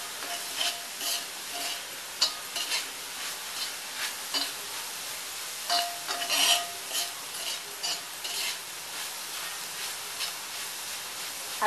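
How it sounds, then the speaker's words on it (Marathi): Dry coconut sizzles and crackles while being burned on a cast iron bhida tawa, with steady scraping and stirring against the pan and brief louder crackles, close and continuous with no talk. "आता हे खोबरं पूर्ण जळेपर्यंत आपण ते जाळून घेऊया थोडं."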